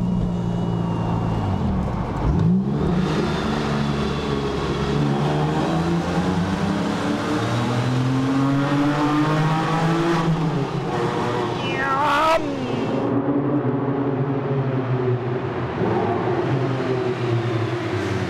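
A Porsche 997 with a freshly fitted engine revs in a tunnel, its loud, echoing exhaust rising and falling through sweeping pitch changes across a sustained drive, with no talking.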